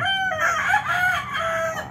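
A rooster crows loudly and close by, a long strained call repeated in a couple of drawn-out phrases.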